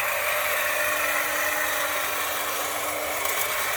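A BLACK+DECKER 20V MAX cordless 18-inch hedge trimmer running outdoors while cutting bushes, a loud continuous buzzing whine that holds steady throughout, close to the listener.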